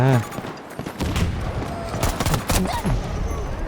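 Rapid rifle fire in a Thai-played war shooter, a burst of about six shots from an M5A3 assault rifle with booming impacts, loud and close, mixed with other game effects.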